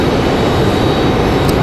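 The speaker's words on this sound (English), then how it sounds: "Delta 2521 coming in from Minneapolis here. It's going to be that A320" A Delta Airbus A320-212 arriving from Minneapolis roars past loud and close, a steady broadband jet rumble that holds without a break.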